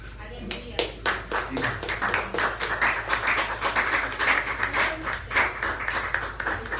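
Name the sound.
church congregation clapping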